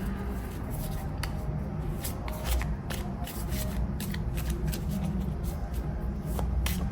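Tarot cards being shuffled by hand, soft repeated riffling and slapping of cards close by, with a steady low background hum and no talk over it.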